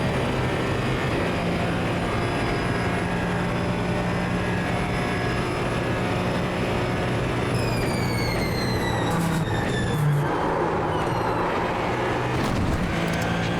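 A Ferrari 499P race car in iRacing drones steadily at high revs, a loud continuous engine whine that shifts pitch midway as the car changes gear and slows for a corner.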